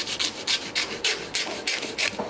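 Glue is being scraped off the raw wooden neck of a Kay Kraft four-string tenor guitar in a series of close, rhythmic rasping strokes, roughly a dozen in quick succession with no talking.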